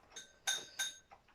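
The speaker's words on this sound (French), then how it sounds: "avec sa médaille de collier qui tintinabule dans les bols de croquettes" A dog's metal collar medal clinks against kibble bowls with a few bright, quick metallic chinks, the loudest two close together, followed by softer light clinks, all fairly quiet and nearby.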